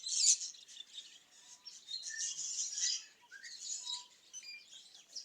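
Budgies chirp in the small parrot section of a bird sanctuary, a busy flurry of high, quick tweets and warbles coming in short overlapping bursts close by.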